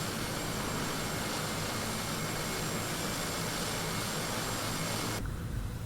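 A Fokker 50 turboprop airliner's engines run in the X-Plane 11 simulator, a steady broadband whine and rush held evenly throughout, then dropping off sharply near the end.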